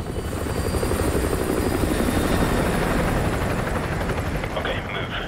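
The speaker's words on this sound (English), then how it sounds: "Enemy helo patrolling the perimeter" An enemy helicopter patrolling a perimeter in Call of Duty MW2 Remastered produces a loud, close, continuous rotor and turbine roar that holds steady, with faint voices underneath.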